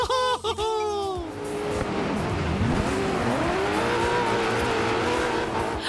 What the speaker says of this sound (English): The sound of the exhaust, the squeal of the tires on tarmac, the muddy drifting.